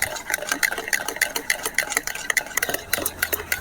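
Cake batter with white oil being beaten briskly in a bowl, a fast, even rhythm of wet slaps and light clicks, close and steady for several seconds with no talk.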